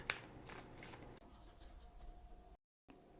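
Oracle cards shuffled by hand in quick, papery riffling bursts close up, then a brief pause and a short final shuffle, with no voices.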